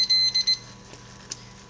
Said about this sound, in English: we're going to set our alarm now for 260